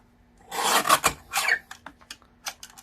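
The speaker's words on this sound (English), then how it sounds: "So let's cut ourselves 3/4 of an inch strip." Cutting a 3/4 inch strip of cardstock for a stamping craft project, a few close rasping strokes followed by lighter scraping ticks, heard alone without speech.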